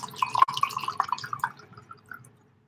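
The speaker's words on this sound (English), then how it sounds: "That's a healthy pour right there." Clase Azul Plata tequila poured into a glass at close range, a short, bright trickle with small splashy drips that thins out and fades after about two seconds, with no talking.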